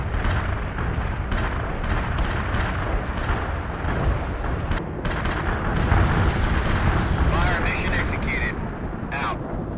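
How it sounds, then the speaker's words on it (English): An artillery barrage in a real-time strategy video game: dense, continuous rumbling booms and overlapping explosions that swell and fade over about ten seconds, with no clear pauses between blasts. "Directing the artillery was satisfying"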